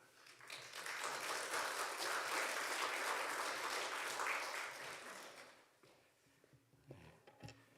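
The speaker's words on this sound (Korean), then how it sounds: "오늘도 우리 말씀 전해주실 양 목사님 나오실 때 큰 박수로 한번 환영해 주시면 감사하겠습니다." A church congregation at an autumn revival service claps to welcome a pastor to the pulpit, with dense applause building and holding for about five seconds before fading into quiet room sounds and a few soft knocks.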